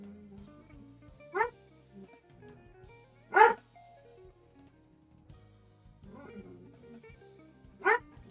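A dog barks three times at spaced intervals, single short woofs at moderate distance, with quiet video game sounds and a low hum underneath.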